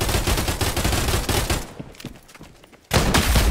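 Dense bursts of gunfire and airstrike blasts in a VR battle royale game, loud rapid volleys that thin out briefly before a heavy explosive burst slams back in at close range.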